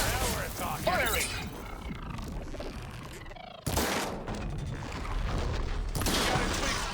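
Weapons fire in the middle of a Horizon Forbidden West battle, with loud booming shots and crashing impacts over a constant backdrop of combat noise and voices.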